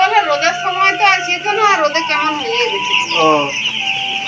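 Two chickens clucking close by in a series of harmonic, wavering calls that run almost continuously, with a little speech-like sound mixed in.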